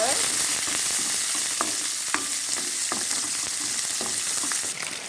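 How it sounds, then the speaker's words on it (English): Chopped onions fry in a wok for chicken biryani goreng, a bright continuous sizzle punctuated by sharp scraping clicks as a utensil stirs them, close and without talk. "Chopped onions, and give this a stir."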